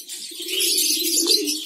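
Pigeons at a bird farm coo nearby in one steady, low, throaty call with airy background noise.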